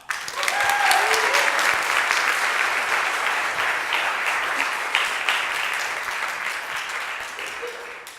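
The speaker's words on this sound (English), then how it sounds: "Can I get everybody to give a huge round of applause as Ayesha comes up on the stage" A large audience at a tech talk at Google Cloud bursts into applause for a speaker taking the stage, swelling quickly and holding as a dense, steady clapping that slowly tapers, with faint cheers mixed in.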